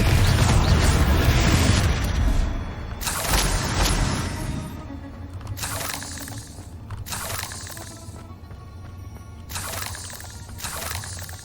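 Confringo fire spell blasts in Hogwarts Legacy combat, a loud rumbling explosion followed by several sharp crackling bursts spaced across the fight.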